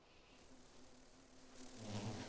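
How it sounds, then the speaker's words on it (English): In the video game Final Fantasy XVI, bees buzz in a faint, thin drone that swells louder toward the end as the swarm draws closer. "Oh no, bees."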